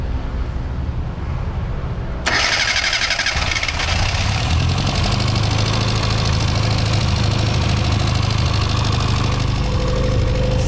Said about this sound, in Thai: ลองเปิดกดปุ่มสตาร์ทเบิ้ลเช็คสักสองที